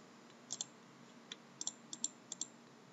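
Computer mouse clicking during work on a web application project, about eight short, sharp clicks in quick pairs and singles, close and fairly quiet, with no talking.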